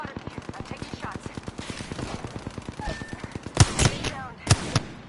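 Rapid automatic gunfire in the video game Apex Legends, a steady stream of evenly spaced shots followed by a few louder, sharper bursts near the end, heard alongside faint background game sounds.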